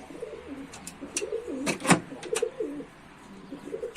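Tumbler pigeons coo in a coop, soft rolling calls close by with a few sharper chirps and flutters scattered through.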